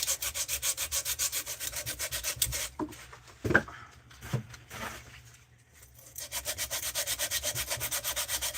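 Rasp scratches are sanded out in fast, rhythmic back-and-forth strokes. The strokes pause for a few quieter knocks and handling sounds in the middle, then resume their even scrubbing rhythm.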